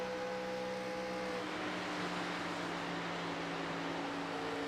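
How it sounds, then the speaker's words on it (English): Wind noise in the iRacing sim during a Daytona 500 broadcast, a faint, steady broadband hiss with a low engine hum beneath, continuous and without breaks. "Wow, you can really hear the wind there."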